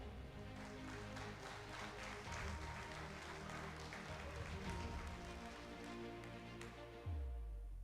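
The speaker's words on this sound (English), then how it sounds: "Ladies and gentlemen, this is the part where you clap." An audience at a tenth anniversary celebration breaks into sustained applause, a dense continuous patter of many hands over a low musical hum, fading at the close.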